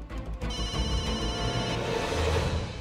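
A telephone rings in a steady repeated electronic trill, fairly close and moderately loud, with no voices.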